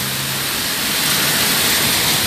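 A loud, steady wash of heavy rain and strong wind sweeps through Maringá in a continuous roar that swells slightly, with no one speaking.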